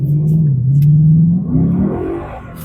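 A 2015 Ford Mustang GT's V8 with a six-speed automatic revs loudly under acceleration, a deep rumbling drone that climbs steadily in pitch.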